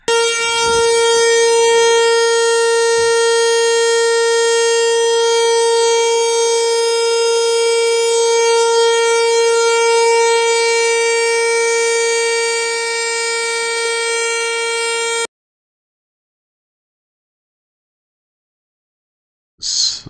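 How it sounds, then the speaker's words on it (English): A civil defense siren wails as a loud, steady tone for about fifteen seconds, then cuts off into silence before a brief burst returns at the end. "Oh, what did this sirens sound like?"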